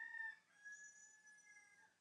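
Rooster crowing faintly in the background with hens clucking softly, a thin distant call over quiet outdoor ambience, no voices.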